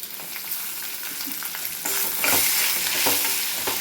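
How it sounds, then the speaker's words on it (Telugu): Grated raw mango is stir-fried in a hot tempering, a close sizzle that swells louder partway through as the mixture is stirred and scraped in the pan. "ఇది మాత్రం వేగిన తర్వాత మామిడికాయ తురుము కూడా వేసేసుకోవాలి. ఎక్కువ వేయించక్కర్లేదు, కానీ కొద్దిగా."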